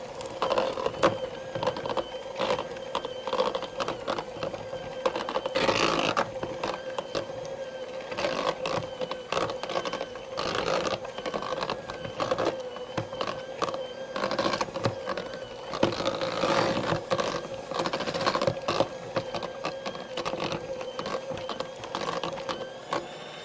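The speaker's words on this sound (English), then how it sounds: "I have a 8-ounce package of cream cheese in here and 4 tablespoons of butter. And I'm going to mix them up" An electric mixer whirs steadily through cream cheese and butter in a bowl, a continuous motor hum with rattling beater knocks, close and moderately loud, with no talking.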